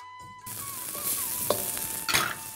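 Chicken cutlet mixture with spices is stirred in a pan, a close scraping stir over a steady sizzle, with two sharper scrapes toward the end and no talking.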